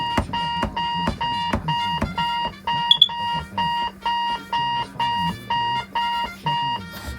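A Mountbatten Brailler in music mode plays a repeating pattern of bright electronic beeping tones, steady and rhythmic like an alarm clock, about a dozen evenly spaced pulses over a low hum.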